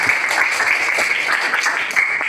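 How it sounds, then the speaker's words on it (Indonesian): Applause from a classroom of students for a classmate, a dense, steady patter of many hands clapping close by for a couple of seconds. "Oke, kasih tepuk tangan untuk Maulana."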